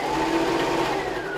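A sewing machine runs steadily up close, a continuous whirring hum while stitching two fabric cones together.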